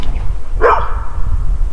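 One dog gives a single short bark against steady outdoor background noise around sunset after a hike, and no voices can be heard.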